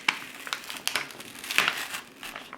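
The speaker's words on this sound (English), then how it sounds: "I know you're hearing that paper crunch" Paper crunches and crinkles while a coloring page is being lifted, with several sharp crackles close up and fairly quiet, and no talking.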